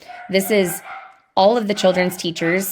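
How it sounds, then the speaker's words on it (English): Dogs bark and yip indoors in short bursts, close by and fairly loud, mixed in under a woman's continuous speech. "Sorry, you'll have to excuse my dogs."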